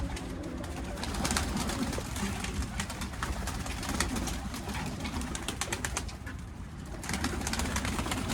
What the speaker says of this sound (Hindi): तीनों खुड्डे में कबूतर ही कबूतर है